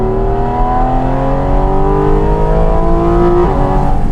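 A 2023 Porsche 718 Cayman GT4 RS engine pulls hard in third gear from about 3,500 rpm, its loud, steady rising howl climbing continuously in pitch from inside the car, with no talking.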